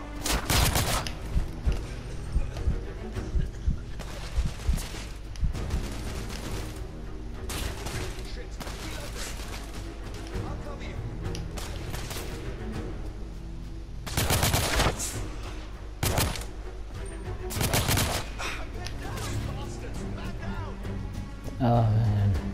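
Heavy gunfire in the video game The Order: 1886, sustained fusillades with loud, dense bursts and some booms, continuing almost without pause while a voice talks underneath.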